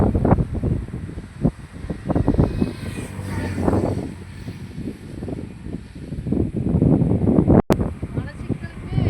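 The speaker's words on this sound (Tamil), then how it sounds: "இப்போ காற்று வேறு நல்லா அடிக்குது" Strong southwest monsoon wind gusts steadily past a roadside patch of medicinal herbs, buffeting the microphone with a low rumbling roar throughout while someone talks over it.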